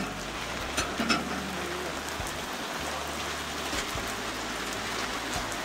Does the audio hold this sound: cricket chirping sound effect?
no